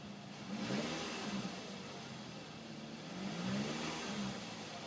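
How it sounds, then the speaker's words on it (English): A 2007 Toyota RAV4 engine revs up twice, rising and falling in pitch, with a steady idle between the two pushes, heard close and fairly quiet. "And it holds its revs quite well too."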